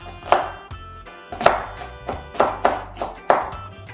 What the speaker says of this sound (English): now I can put my hand on top and just do some chopping